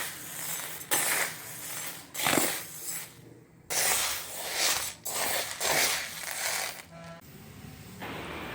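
Machine cracking roasted, cooled lentils into halves: repeated bursts of gritty rattling and grinding come in uneven waves over several seconds, with brief pauses between feeds and no speech.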